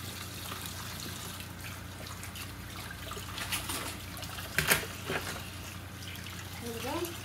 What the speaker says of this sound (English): Run some hot water on it.